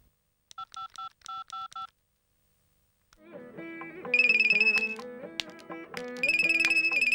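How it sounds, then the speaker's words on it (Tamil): A mobile phone sounds a short burst of keypad dialing beeps, then a pause, then a bright electronic melodic ringtone that keeps playing loudly. "உங்கள் மொபைல் ரிங் ஆயிட்டே இருக்குண்ணே"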